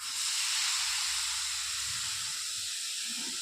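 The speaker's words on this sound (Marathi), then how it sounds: "पालक आपण इथे कढईमध्ये थोडीशी शिजवून घेऊ" Chopped spinach steaming in a kadai for palak paratha, a steady, fairly quiet hiss that carries on throughout with no talking.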